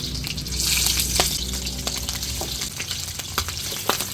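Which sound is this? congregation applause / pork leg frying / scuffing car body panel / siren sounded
pork leg frying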